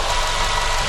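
The engine of a new Renault QM6 idles quietly with a steady, even mechanical hum and a faint vibration, unbroken throughout.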